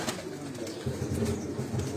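Breeder pigeons coo in low, soft, repeated murmurs, close by against a steady hiss of background noise, with no one talking.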